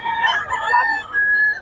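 A rooster crows loud and near at a chicken market in Bocaue, one drawn-out call that holds steady and then rises again before it ends.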